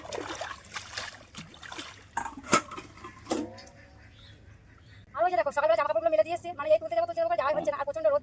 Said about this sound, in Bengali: এখন তো বাসন মাসতে মজাই মজা লাগছে এত জল কি সুন্দর